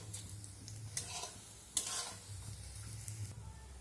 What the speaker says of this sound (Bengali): বাকি বড়াগুলো একই রকমভাবেই আমি ভেজে নেব।